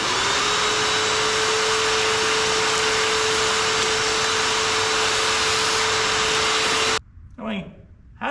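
Loud continuous whine and roar of a shop vacuum sucking fluid off a Ford 460 engine on a stand, steady with a fixed tonal hum, then cutting out abruptly as a voice speaks at the end.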